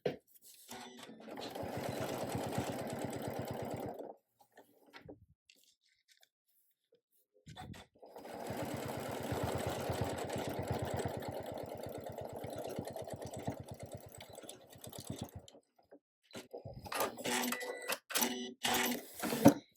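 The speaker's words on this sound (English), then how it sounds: "you're just going to stitch this closed" A sewing machine stitches a zippered fabric bag closed in two close bursts of rapid mechanical whirring, separated by a pause and followed by a few short clicks and handling noises.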